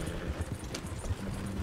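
Horse hooves clip-clopping in Red Dead Redemption 2, a quiet, steady run of muffled hoofbeats over a low background rumble, with no voices.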